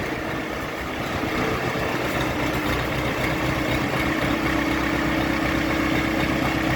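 A Jinma 404 tractor from 2023, a four-cylinder diesel, idles in an open yard with a steady, close, continuous rumble and a slight rise in pitch partway through, heard alone without talk.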